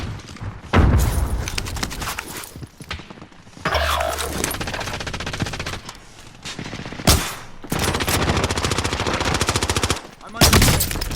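Rapid gunfire in the Warzone video game, loud bursts of automatic fire and sharp shots in several separate volleys, with booms and thuds between them.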